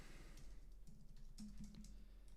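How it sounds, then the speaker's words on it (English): Rapid clicking of computer keys as someone types a search-style prompt, steady irregular taps close to the mic with a low hum underneath, no voices. "excuse my typing"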